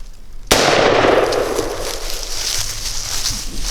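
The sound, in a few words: gunshot while hunting wild hogs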